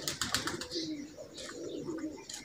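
Pigeons on a rooftop coo and flutter in short bursts, with bright chirpy calls close by over a steady low murmur of background noise.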